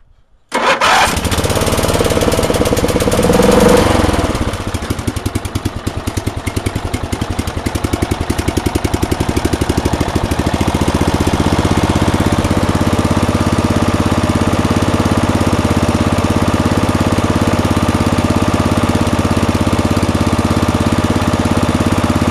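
A Craftsman race tractor engine cranks on choke, catches and fires up, then settles into a steady loud idle close to the microphone, with no one speaking over it.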